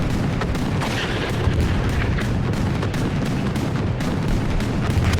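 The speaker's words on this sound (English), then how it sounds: "2 rockets into the Sherman." Rockets striking a Sherman tank in a competitive World War II shooter match: dense, loud, continuous battle noise with heavy booms and gunfire layered throughout, and no clear single impact standing out.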